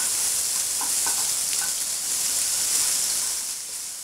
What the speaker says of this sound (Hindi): इसके अंदर डाल देंगे 1/2 टीस्पून अदरक लहसुन का पेस्ट। 30 सेकंड के लिए इसे हम सोते करेंगे।